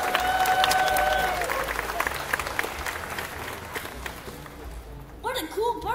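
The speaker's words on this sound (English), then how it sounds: "how about a round of applause for our volunteer adventurers?" Crowd applause and scattered cheering at the bird show in Disney's Animal Kingdom, strongest at the start, thinning out midway, then giving way to a presenter speaking over the fading claps.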